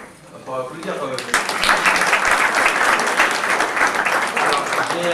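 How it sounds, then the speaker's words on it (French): A voice speaks briefly, then an audience at a lecture on the Quran breaks into loud, sustained applause, with dense clapping that swells and holds to the end. "On va applaudir quand même."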